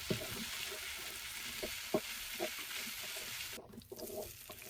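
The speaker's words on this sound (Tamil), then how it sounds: "தக்காளி ஆட் பண்ண உடனே ஒரு 1 to 2 நிமிஷம் வதக்கிட்டு நம்ம ரெடி பண்ணி வச்சிருந்த மசாலாவை ஆட் பண்ண போகிறோம்" Tomatoes and onions sauté in a pan for Chettinad chicken gravy, a steady soft sizzle with a few light stirring knocks. The hiss stays even and moderately quiet, then thins near the end.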